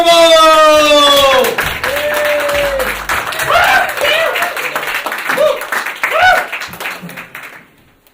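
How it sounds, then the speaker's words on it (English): An improv show audience bursts into applause with steady, dense clapping that carries on for several seconds before fading out; a tonal sound rings briefly at the start. "please give a warm round of applause for Abby Normal!"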